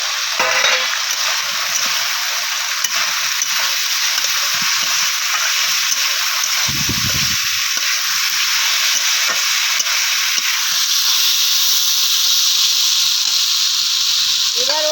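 Leftover rice frying in a pan with capsicum to come, a loud continuous sizzle with scraping stirs throughout and one brief louder scrape, no talking.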